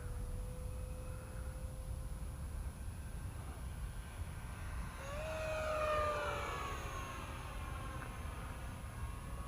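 An eFlite 70mm F-16 RC jet with an electric ducted fan held at full throttle, a steady turbine-like whine over a whooshing roar that swells and shifts in pitch midway, heard at a distance.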